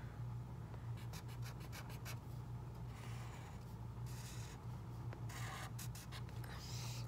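A pen scratching and scribbling across paper while sketching a zipper, a quiet close-up texture of short strokes in bursts, with a low steady hum underneath.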